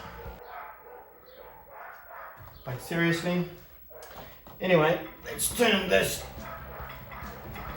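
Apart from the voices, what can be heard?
neighbourhood dogs barking in the background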